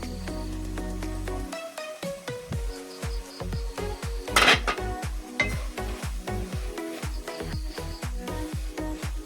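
Squid mixed with a ground paste is stirred in a pan, with repeated scraping strokes in a steady rhythm, close and clear, plus a brief clatter partway through and a quiet sizzle underneath.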